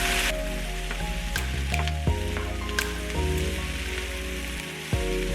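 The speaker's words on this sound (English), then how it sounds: "I'm just going to mix our onions in." Potatoes frying in grease in a pan with onions being stirred in, a steady close sizzle with scattered scraping and clinking of the utensil against the pan, under low tonal background music.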